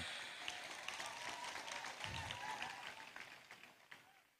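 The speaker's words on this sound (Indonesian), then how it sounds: "Tepuk tangan untuk Anda yang di Aqobah." Applause from an audience at a boarding school opening ceremony, continuous clapping at moderate distance that gradually thins out toward the end.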